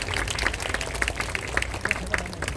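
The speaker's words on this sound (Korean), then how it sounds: "여러분께서도 다시 한번 따뜻한 박수 보내주시면 대단히 감사하겠습니다" An audience at a fashion runway show claps, a lively crowd applause with some individual sharp claps standing out, sustained and fairly even with a little chatter underneath.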